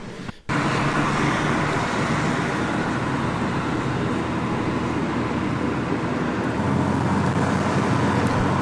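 Steady road roar from a 60-year-old Volvo car cruising on the freeway outside Marseille, a broad, even rumble of engine, tires and wind that holds continuously at a constant level after a brief quiet start.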